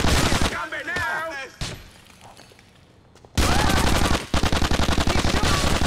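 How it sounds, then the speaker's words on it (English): Gunfire in Grand Theft Auto: The Ballad of Gay Tony, loud dense bursts of automatic shots in two stretches around a quieter gap, with shouting voices in between. "He's shooting!"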